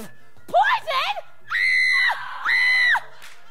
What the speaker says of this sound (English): someone had to stop her screaming